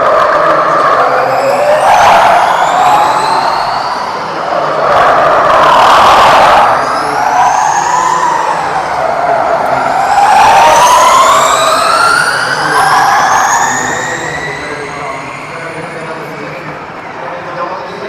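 Formula E electric race cars passing on the straight at the London ePrix, a high rising and falling whine sweeping past repeatedly, loud and close, with crowd or voices faintly underneath.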